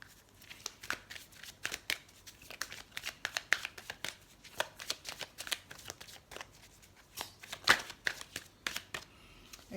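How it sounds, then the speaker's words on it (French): Large tarot cards being shuffled by hand, a close, steady run of soft papery riffles and flicks with no voices. "Alors on va continuer à tirer les cartes."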